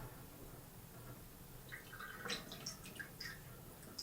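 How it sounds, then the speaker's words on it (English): Water dripping and trickling through a jug filter while making tea, with a quiet run of small, irregular drips and plinks building up over a steady low background. "You see how quickly the water passes through the filter"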